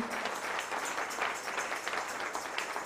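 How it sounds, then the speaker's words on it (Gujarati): Devotees applaud together inside a Swaminarayan temple to welcome Lalji Maharaj: dense, steady clapping from a crowd that fills the whole moment without pause. "આપણે લાલજી મહારાજને તાળીના નાદથી બતાવીએ"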